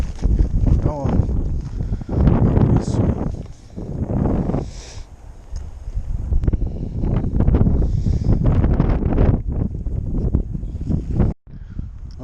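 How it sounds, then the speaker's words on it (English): Gusty wind blows across the microphone on the bank of the Parramatta River during a fishing outing, with heavy buffeting rumble throughout and a person talking over it. "This wind is atrocious."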